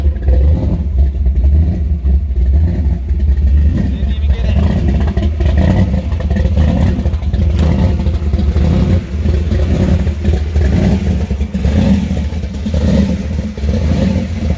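A 1986 Chevrolet Camaro IROC pro street with a 540 Dart block engine turns over and runs loud and close, its rough idle swelling into revs with some clattering.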